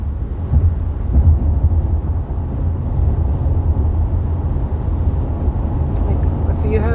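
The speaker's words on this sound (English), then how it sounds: "If you don't have the Bluetooth on, it's just really, really noisy in the car." Heavy, steady low road rumble fills a car's interior while driving, a constant loud droning roar without Bluetooth noise reduction, with a faint voice-like blip near the end.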